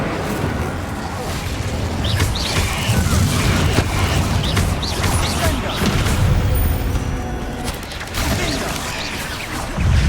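Fire spell bursts from Incendio cast during combat in Hogwarts Legacy, dense booming blasts and crackling rush that stay loud and continuous with other combat noise layered over them.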